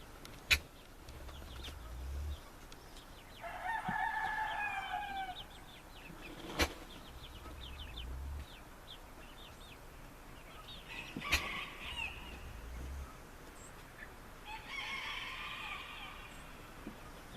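A flock of Orloff chickens clucks and calls at a distance, with scattered crowing bursts and a few sharp knocks over a quiet outdoor background.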